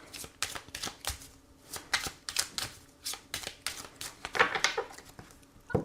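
Tarot cards are shuffled for a reading in quick, rapid riffling bursts that patter close to the ear, repeating steadily without pause and with no speech.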